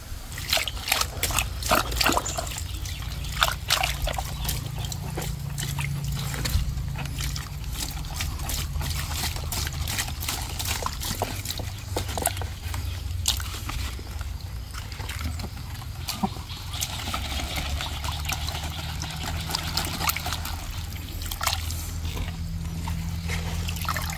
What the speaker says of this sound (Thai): โอเคไปล้างรากกันเลย